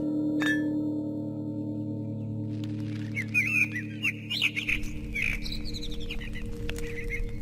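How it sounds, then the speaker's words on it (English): Small songbird chirps and trills from a hedge sparrow in the video game The Lost Crown, a run of bright, quick notes rising over a steady low ambient drone, moderately close and alone without talk. "A hedge sparrow."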